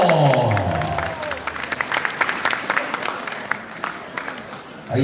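Audience applause for a duo at a gala concert: a burst of crowd clapping that starts loud over a voice, then thins into scattered, uneven claps before another voice comes in near the end.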